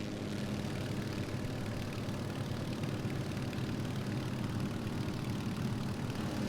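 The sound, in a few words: jet airliner engine roar in Microsoft Flight Simulator video game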